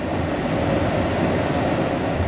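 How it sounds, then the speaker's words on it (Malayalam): A steady rumbling hum inside a double-decker train in Slovenia, continuous and even, with no clear clatter or voices. "ഡബിൾ ഡെക്കർ ട്രെയിൻ യാത്ര പുറപ്പെട്ടിട്ടില്ല"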